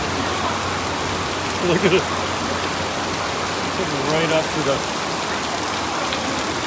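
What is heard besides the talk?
heavy rain in Sosua, Dominican Republic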